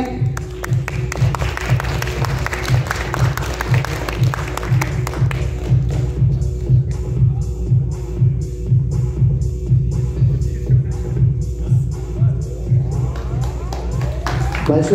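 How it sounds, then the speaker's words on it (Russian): An audience applauds steadily to congratulate a second-place team at an IT bootcamp awards ceremony, the dense clapping running loud and continuous throughout, with some low voices and thumps mixed in. "Поздравим ребят аплодисментами."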